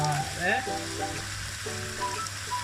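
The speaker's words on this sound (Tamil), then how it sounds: "மட்டனை போட்டு இப்படி ஒரு பிரட்டிட்டு இதுக்கு தூள் போடுவோம்" Mutton frying and being stirred in a pan for a Jaffna-style curry, a steady close sizzle with stirring scrapes running the whole time, no talk.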